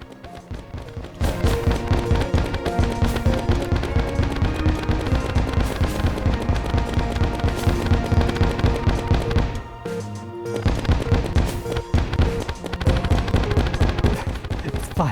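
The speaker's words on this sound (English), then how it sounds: "Launches a powerful exo rocket to nuke everything and anything." An exo rocket launcher in the video game Terraria Calamity fires constantly, and rapid explosions pile up into a loud, dense barrage. The din drops out briefly near the end and then resumes.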